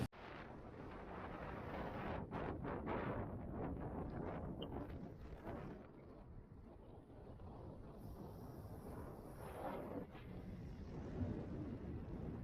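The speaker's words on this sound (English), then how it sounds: "So windy and cold." Wind buffets the microphone in a steady, rough roar with gusty surges throughout, on a cold mountain road in West Wales, no voices present.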